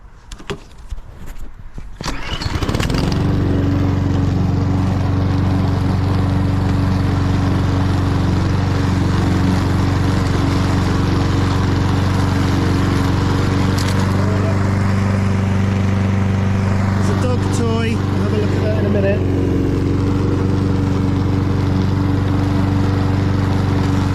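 A petrol lawn mower runs steadily close by while mowing a large garden lawn, its engine starting up after a few seconds and then droning continuously with little change, no voices over it.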